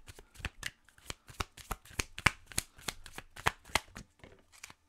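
Oracle cards being shuffled by hand in a tarot-style reading, a rapid run of crisp papery riffles and slaps repeating steadily throughout, close and clear with no talking over them.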